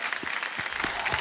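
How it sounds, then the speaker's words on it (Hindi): Studio audience applause on a quiz show, a short burst of steady clapping from a crowd heard up close. "एक बार फिर तालियों के साथ आपका हम स्वागत करते हैं।"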